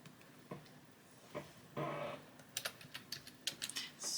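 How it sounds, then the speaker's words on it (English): Keyboard typing while replying to a message: a quiet, irregular patter of key clicks with scattered single taps and a brief burst of faster keystrokes toward the end. "I'm just typing him a message."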